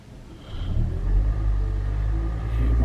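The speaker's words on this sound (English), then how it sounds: "if I touch the accelerator," A Toyota Yaris 1.5 hybrid idles, then its engine rumbles up as the accelerator is pressed, a steady low drone swelling and holding close by with no talking.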